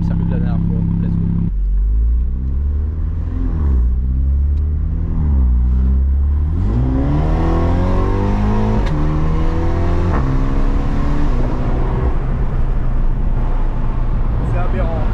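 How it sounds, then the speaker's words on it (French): Diesel car engine on a drive, a loud rumbling drone that rises and falls with gear changes and acceleration, heard from inside with a person talking over it. "Et là, on est sur un bruit de mazout."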